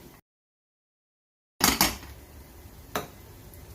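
A spoon scrapes and knocks against a pot while potato chickpea curry is stirred, giving a few sharp clinks after a short silence, then softer scraping and one more knock.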